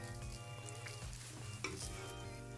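Onions and beef sizzle steadily in a pan during a Japanese BBQ-style home cook, with a continuous crackling fry and occasional stirring scrapes, fairly quiet and close, with no talking.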